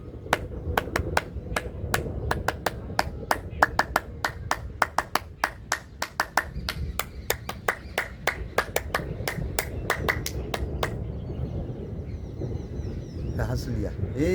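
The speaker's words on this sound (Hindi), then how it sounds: "ताली लगा दे करो।" Group of people clapping hands together outdoors during a yoga and breathing exercise session, a long run of sharp, fairly regular claps for about twelve seconds, with background noise and faint voices underneath.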